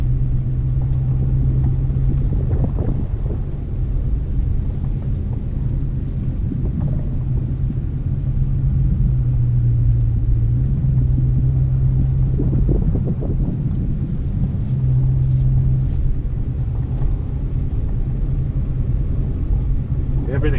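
Dodge Charger driving slowly at full steering lock after a differential fluid change, a steady low engine and drivetrain rumble with a faint tonal hum and no chatter, heard up close throughout.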